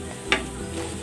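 Garlic sautéing in a pan, a steady soft sizzle with one sharp click or stir scrape near the start, close and moderately loud with no talking.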